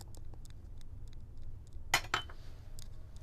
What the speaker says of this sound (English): just give it a gentle mix